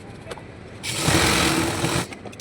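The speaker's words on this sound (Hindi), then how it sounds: "अब हम इसकी सिलाई कर रहे हैं।" A sewing machine runs in one steady burst of about a second, stitching a Pakistani farshi salwar, its motor whirring loud and close after a quiet start.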